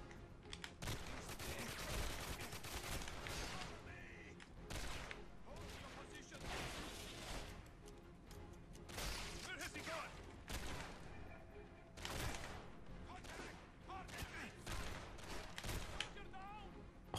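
Rapid bursts of gunfire from the video game 007 GoldenEye Reloaded, set in St. Petersburg archives, crackle loudly and almost continuously, with a player's voice talking over the shooting.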